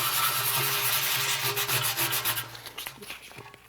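Steady scratchy rubbing of sandpaper worked by hand, back and forth in quick strokes, close and fairly loud, easing off toward the end.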